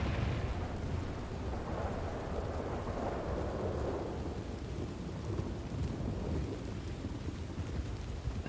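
A thunderstorm with heavy rain inside a Red Dead roleplay game: a steady wash of falling rain with low rumbling thunder beneath it, quiet overall and without talk.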